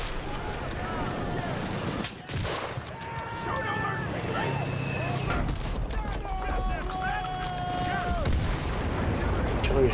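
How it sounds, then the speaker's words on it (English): Artillery strike explosions in the World War II shooter Enlisted, heavy booming impacts and a rolling rumble that run continuously through the scene, mixed with battlefield noise and someone talking over them. "Artillery strike right on the marks right there that I marked"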